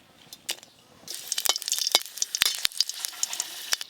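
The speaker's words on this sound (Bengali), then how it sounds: "2 কোয়া রসুন আর একটা শুকনো লঙ্কা একটু হালকা করে ভেজে নেব।" Two garlic cloves and one dried red chili fry lightly in a small amount of oil in a kadai, crackling and spitting in quick, sharp pops over a soft sizzle after a quieter start.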